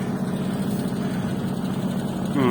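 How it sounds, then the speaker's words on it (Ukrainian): A homemade wood chipper runs steadily, chopping wood with a loud, close, continuous engine drone and no clear breaks. "Працює файно. Щуперез хороший, тільки треба доробляти."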